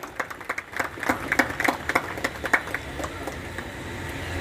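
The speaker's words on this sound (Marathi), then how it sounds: "मिलिंददादा लोखंडेसाठी टाळ्या होऊ द्या." An audience applauds Milind Lokhande at a community gathering. The clapping is light and scattered, rising into a brief patter of many hands and then tapering off.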